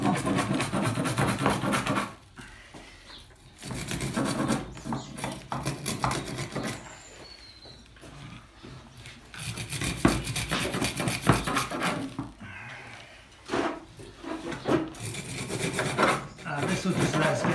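A saw rasps through the corners of a Deshojo maple bonsai root ball in repeated scraping back-and-forth strokes, with short pauses between bursts of cutting.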